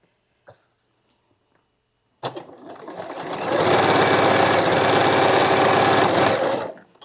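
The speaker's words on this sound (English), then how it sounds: "let's go sew this" A sewing machine stitches a quilt block: after a soft click and a pause it starts up, quickly ramping to a steady, loud whirring run of rapid needle strokes for several seconds before stopping abruptly.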